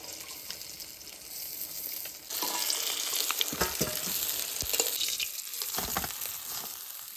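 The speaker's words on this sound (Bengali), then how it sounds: "এরকম করে সব মাছগুলো ভেজে নেব" Pomfret fish frying in hot oil, a steady close sizzle with crackling pops and occasional stirring or clattering, growing louder partway through and continuing without voices.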